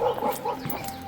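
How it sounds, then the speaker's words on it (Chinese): A dog barks a few short, distant yips near a remote house deep in a mountain forest valley, brief and moderately faint. "已经有狗叫唤了"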